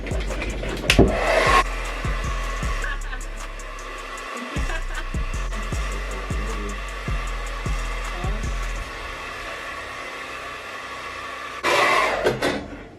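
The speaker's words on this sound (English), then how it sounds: "we're gonna let it sit and put some heat on it, like blow dry it so it stays, so it holds" Blow dryer heating freshly retwisted starter locs: a loud, steady close whir that switches on and off, with clicking and brief handling noises between runs and a final short burst near the end.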